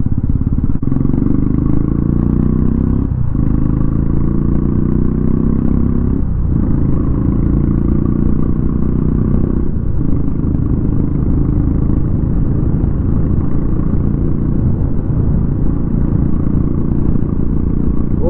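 A Royal Enfield Bullet Classic 350 BS6 motorcycle runs with a loud, steady thumping engine note close by, rising through revs and dipping at several gear changes, with faint clatter.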